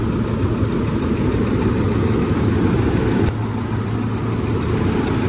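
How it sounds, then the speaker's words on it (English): A 380 machine's engine with a leaking hydraulic pump idles steadily, a loud, continuous low rumble with constant vibration and no speech over it. "so the engine's running"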